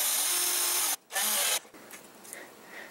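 A power drill drives screws into a DIY Boeing 737 flight-simulator yoke, two loud sustained whirring bursts with a brief pause between, then quiet handling noise.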